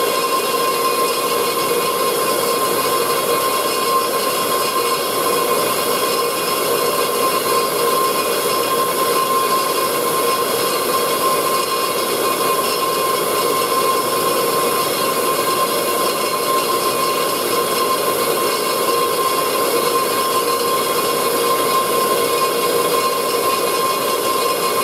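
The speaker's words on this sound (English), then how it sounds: "I'm going to go over to my Black & Decker bench grinder that I reconditioned last summer, and we'll demonstrate how this works" A reconditioned Black & Decker bench grinder runs steadily and loudly, a constant motor whine with a steady high-pitched tone that holds without a break throughout.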